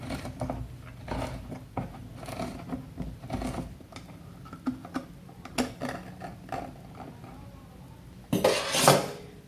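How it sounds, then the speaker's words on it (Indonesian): Sardines in a tin are being opened with a series of scattered metallic clicks, scrapes and small clanks at close range, ending in a louder sharp tearing rasp of the lid. "Sekarang kita langsung membuka ikan kalengannya."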